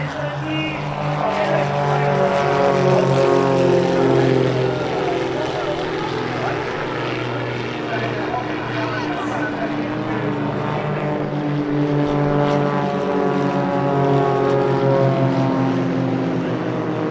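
Propeller aerobatic planes of the Global Stars five-ship display at the 2019 Sichuan airshow, a steady loud droning of several piston engines with slowly shifting pitch, continuous throughout.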